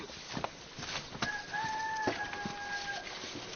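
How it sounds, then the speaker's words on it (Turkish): A rooster crows once in a long, drawn-out call amid a flock of chickens clucking softly, all somewhat distant and fairly quiet. "Bak tavuklar da."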